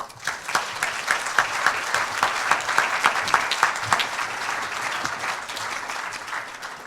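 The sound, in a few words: audience applause welcoming speaker Sally Pipes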